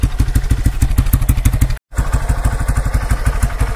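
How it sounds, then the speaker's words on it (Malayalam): Hero XPulse 4V motorcycle idling with an aftermarket exhaust, a steady loud thumping single-cylinder beat with one brief cut of silence partway through. "ഇത്രയൊക്കെയാണ് നമ്മുടെ എക്സോസ്റ്റ് നോട്ട്"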